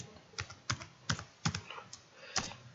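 Typing on a computer keyboard while entering text in an Excel spreadsheet: about seven sharp, quiet key clicks at an irregular pace, close and isolated, with no voices.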